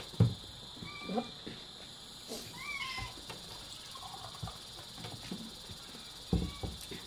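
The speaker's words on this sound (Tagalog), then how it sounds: "Yung pusa ko, kaingay na." A cat meowing indoors during a meal, several short, faint cries spaced irregularly over a quiet background hum, with occasional soft knocks and clatter.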